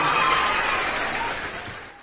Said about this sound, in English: give a round of applause for Chef Chuy